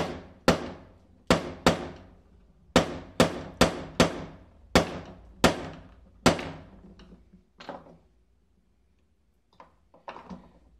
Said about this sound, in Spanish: sacar el perno por la parte de abajo, darle unos golpecitos pequeños